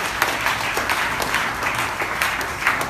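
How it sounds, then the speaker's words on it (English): An audience at a travel industry summit in New York City applauds, many hands clapping together in a dense, steady patter that holds at an even level from start to finish. "Round of applause,"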